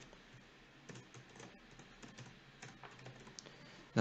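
Keys clatter on a computer keyboard as a name and email are typed in, a quiet, irregular patter of soft clicks heard close up.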